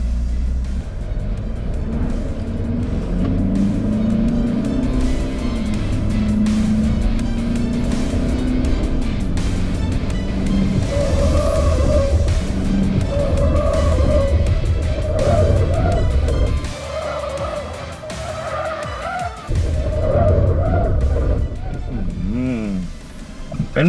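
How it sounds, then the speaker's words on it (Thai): Ford Next Gen Ranger Wildtrak or Mitsubishi Triton pickup truck driven hard, engine and road noise loud and steady throughout, with the suspension bouncing and thudding, under continuous talk from inside the cab. "รถกระเด้งตึงตึงตึงตึงไปเลย"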